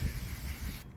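Aerosol spray paint hisses in a continuous burst near a rock, a close, soft airy rush that stops abruptly just before the end.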